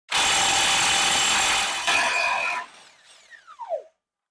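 Power tool or impact wrench running loud and steady for about two and a half seconds while removing the CV axle nut on a 2000 Chevy Silverado 1500, then a few shorter metallic bursts and a final whine as it spins down.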